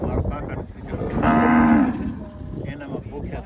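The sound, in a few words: cows mooing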